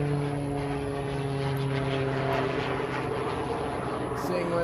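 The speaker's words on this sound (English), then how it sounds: "Seeing where that airplane is" A steady propeller-plane drone hums overhead throughout, loud and continuous, with no breaks.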